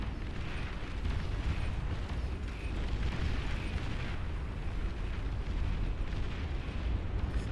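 Naval fighting between battleships in the strategy game Beyond All Reason, a dense, continuous rumble of booming explosions and cannon fire with no clear breaks, steady and loud throughout.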